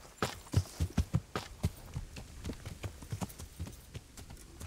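Horse hooves clip-clop in a steady walking rhythm in the video game Kingdom Come Deliverance, moderately close and clear, each hoof strike distinct with no voices over them.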